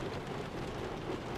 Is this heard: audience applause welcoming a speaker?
no